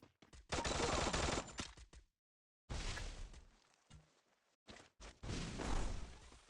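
Enemy full-auto fire in the Free Fire battle royale game during ranked play, with dense loud bursts of rapid shots broken by a silent gap and short single cracks.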